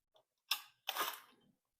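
Wire connectors are tugged off a radiant surface element in a Jenn-Air or Whirlpool cooktop: a faint tick, then two short, close, crisp clicks with a rasp of metal sliding.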